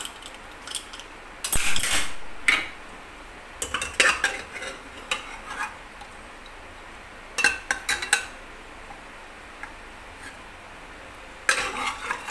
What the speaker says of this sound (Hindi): कुकर ठंडा हो चुका है, इसको खोल के देखेंगे।